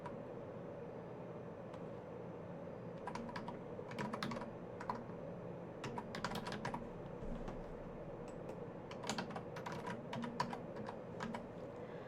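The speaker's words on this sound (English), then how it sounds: "This is not my favorite clicky keyboard, unfortunately. This is the little Amazon replacement I got" Small Amazon replacement keyboard being typed on: faint clusters of quick key clicks in irregular bursts and short pauses over a low steady background hum.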